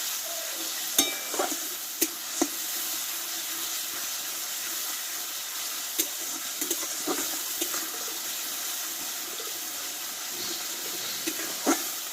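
Ground spice paste going into hot oil for a bitter gourd dish, with a steady soft frying hiss and a few sharp sizzling pops and spatters scattered through, close by and with no talk.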